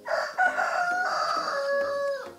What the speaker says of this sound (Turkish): Horozlar, tavuklar özgürce geziyor.